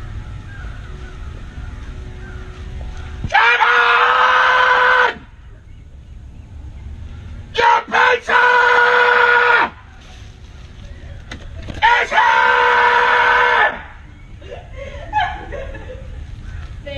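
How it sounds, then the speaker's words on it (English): In an internet video a man screams into a woman's face three times. Each burst is loud, harsh and lasts a second or two, with quieter gaps between them. "he keeps screaming in her face when the doors open"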